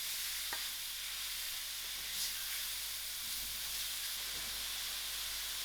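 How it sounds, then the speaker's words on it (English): A chicken mixture frying in a pan, steady soft sizzle and hiss throughout with a few faint stirring scrapes, no voices. "I will lower my heat a little and allow this to fry after a good mix."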